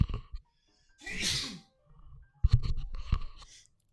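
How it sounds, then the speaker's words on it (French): A single sharp sneeze bursts out clearly and close, while a person plays The Legend of Zelda: Breath of the Wild, with quiet rustling and small clicks before and after. "J'ai éternué."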